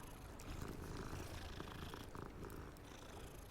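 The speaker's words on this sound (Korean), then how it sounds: "여기 고양이가 또 있어요." A cat purring in the video game Hogwarts Legacy, a soft steady rumbling purr running throughout, close and quiet, no talk.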